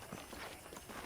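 Horse hooves clip-clop steadily on a ranch in the Red Dead Redemption video game, a soft, even walking rhythm set against a dense, constant background of ambient game sound.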